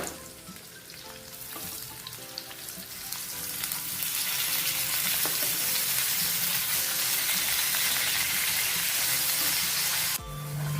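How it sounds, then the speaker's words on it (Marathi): Onions and tomatoes sizzle in hot oil, a steady crackling hiss that swells and stays loud throughout, with occasional stirring scrapes. "आपण 2 चमचे तेलात कांदा आणि टोमॅटो चांगले भाजून घेणार आहोत"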